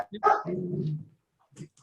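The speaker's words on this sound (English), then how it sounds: "Including the barking dog." A dog barks a few times in quick succession, fairly close, during a remote video call, with people talking around it.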